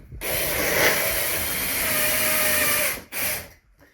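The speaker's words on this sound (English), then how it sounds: "So we mark it, and we drill it." A drill bores into a ceiling during a hanging-fixture install, giving a loud, steady high whine for about three seconds, then a short second burst after a brief pause.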